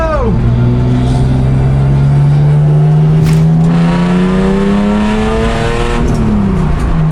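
A cheap $500 endurance race car pulls onto the track for a 24-hour race, its engine droning loud and close while the pitch climbs steadily as it accelerates.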